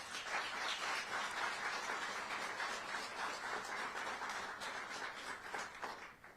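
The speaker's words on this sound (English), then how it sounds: "So please give them a round of applause." A crowd applauds continuously, a dense wash of clapping from many hands that stays steady before easing off slightly at the end.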